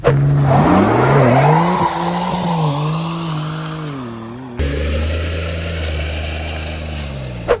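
A BMW M3 launches on ice, its engine revving hard and rising through the gears with tyre noise, loud and close, then a steady engine drone continues after a sharp cut in the sound.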